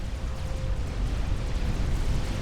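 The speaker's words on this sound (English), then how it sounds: "the explosion taking out all of the Auroras that would have been a threat" A deep, rumbling explosion from the real-time strategy game Forged Alliance fills the whole moment, a dense roar without sharp onset and with no talk over it.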